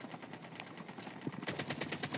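Rapid bursts of video game gunfire crackle in quick succession, growing louder and denser in the second half.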